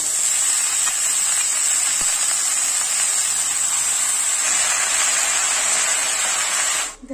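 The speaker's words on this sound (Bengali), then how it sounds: "মশলা ভেজে নিয়েছি, পালং শাক দিয়ে দেব।" Steady loud hiss of spinach with spices and turmeric sizzling in a hot pan during rustic village-style cooking, unbroken for several seconds before cutting off abruptly.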